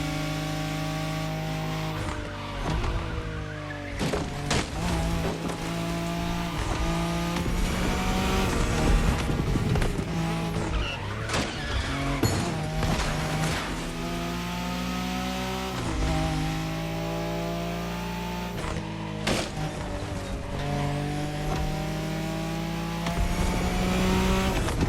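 A Nissan Skyline race car in The Crew Motorfest, engine revving hard and steadily through gear changes, with tire squeal and a loud, continuous roar throughout.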